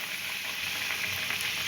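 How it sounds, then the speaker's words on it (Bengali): Samosas frying in hot oil over low heat, an even, soft hiss of bubbling oil held steady for a short stretch, close and unbroken. "তেল গরম হয়ে গেছে বন্ধুরা। এবার আমি সমোসাগুলো ছেড়ে দিচ্ছি।"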